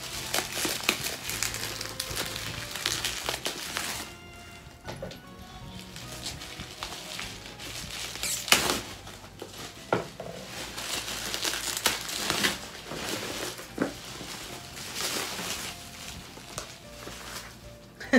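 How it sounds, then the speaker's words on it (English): A Christmas stocking-swap gift wrapped in bubble wrap and tape being unwrapped: continuous close crinkling and crushing of plastic with occasional sharp pops and tearing, loud and steady throughout. "I want to open this. And it's in bubble wrap."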